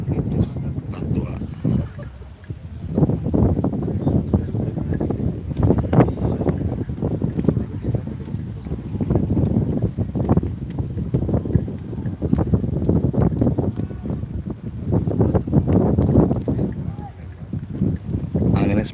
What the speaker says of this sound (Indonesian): Anginnya semakin gede, bro.